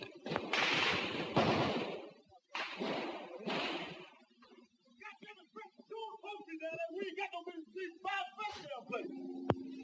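Machine gun fire in a Vietnam War documentary about the Battle of Huế, with heavy bursts of gunfire up front followed by a narrator speaking over scattered distant shots and a final sharp crack.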